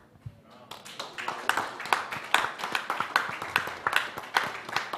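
Audience applause from a crowd at a religious gathering, a steady run of many hands clapping at close to moderate distance that swells and continues for several seconds, with a voice faintly underneath.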